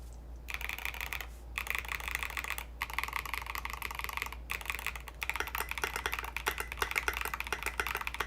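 Rapid typing on a Smurve80 mechanical keyboard, clicky keystrokes in bursts separated by brief pauses, close and clear.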